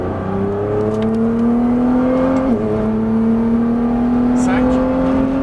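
A Nissan GT-R accelerates on a race circuit: a loud, steady engine drone climbs in pitch with a brief dip partway through, while someone talks over it throughout.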